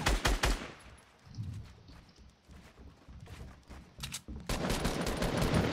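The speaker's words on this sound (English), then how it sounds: "He's just getting shot." Rapid bursts of automatic gunfire crackle in a Fortnite Battle Royale match, loud volleys at the start and end with sparser shots and footsteps between.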